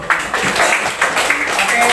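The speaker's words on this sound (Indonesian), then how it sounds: "Semuanya boleh tepuk tangan dulu." A class of students applauds together, with dense clapping running steadily through two seconds over faint voices.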